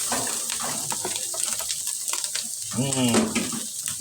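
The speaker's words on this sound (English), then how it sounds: "Oh, I love the smell of onion as it's sauteing in there." Onions sizzle and sauté in a pan for sloppy joes, a steady close frying hiss with scraping and stirring from a utensil, a person talking over it.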